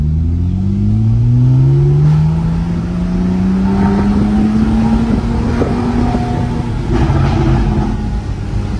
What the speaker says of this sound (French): Et elle découvre aujourd'hui les retours à l'échappement.